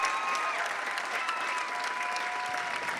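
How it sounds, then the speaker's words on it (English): A gala audience at a trauma-centre benefit breaks into dense, continuous applause, a sustained wash of many hands clapping at an even loudness throughout. "So I think if we applaud loud enough, Chris may come up here."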